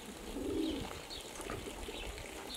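Racing pigeons coo softly at close range in a coop, a low throaty murmur rising and falling over faint background chirps.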